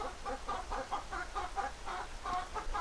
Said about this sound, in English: Don't know if my microphone's picking up the chickens.